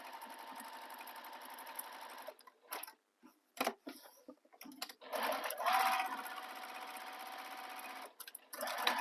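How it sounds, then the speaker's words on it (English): A sewing machine back stitches across a quilted bag panel, running in a fast steady mechanical whirr, pausing several times in the middle with short clicks, then starting again, close and clear. "I'm just going to back stitch."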